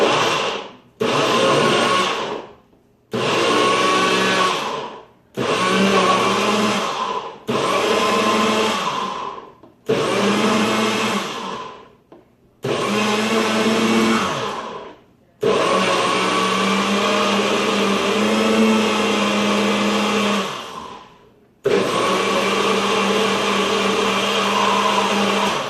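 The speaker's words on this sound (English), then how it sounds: "you can lock it in place and you don't have to keep pulsing it like that" Magic Bullet blender running in repeated short pulses, each burst a loud whirring motor roar, then a longer continuous run near the end.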